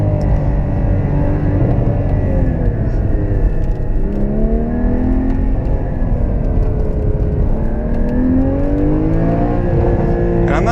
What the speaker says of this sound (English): you can hear that motor is just screaming